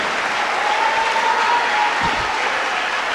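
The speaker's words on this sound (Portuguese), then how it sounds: "Pode aplaudir ao Senhor, pode aplaudir." A church congregation applauds steadily in a dense, continuous wash of clapping, loud and sustained throughout, with a faint tone drifting beneath it.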